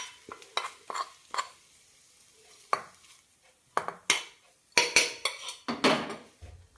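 Vegetable koottu curry stirred and mixed in a metal pan, a run of sharp spoon scrapes and clinks against the pan in uneven bursts, close and fairly loud with quiet gaps between.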